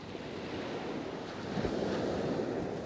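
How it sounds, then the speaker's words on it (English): Wind blowing straight across a hilltop by the sea during a fishing session, a steady rushing roar with buffeting on the microphone and distant surf beneath, continuous and fairly loud. "Wind's coming straight across the top of the hill, which is a result."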